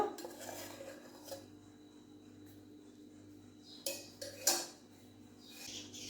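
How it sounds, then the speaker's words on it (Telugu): A spoon works butter into rice flour in a bowl, giving scattered scraping and clinking taps with a few sharper knocks, fairly faint and with no talking. "ఇప్పుడు వెన్న బాగా కలిసేలాగా ఇలా బాగా కలుపుకోవాలి"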